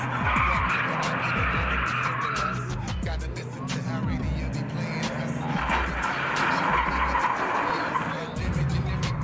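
Subaru drift cars on a track skid with long, wavering tire squeals and revving engines, loud and continuous, as cars slide through corners at a drift event.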